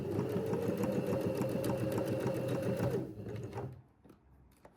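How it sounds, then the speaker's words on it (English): A sewing machine runs rapidly while stitching a revere collar on a shirt or blouse, a loud, close rhythmic chatter for about three seconds before stopping abruptly, leaving quiet handling sounds. "we're sewing a straight line to a curve"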